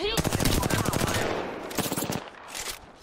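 Rapid bursts of automatic gunfire in Apex Legends rattle out as a dense stream of sharp shots for about a second and a half, then a few scattered shots follow as the firing tapers off.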